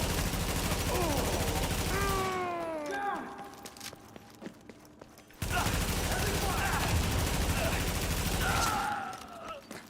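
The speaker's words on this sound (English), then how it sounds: "Shotgun just next to my face." Shotgun blasts at close range in The Division game, heavy booming shots amid dense combat noise that drops out briefly before the loud firefight resumes.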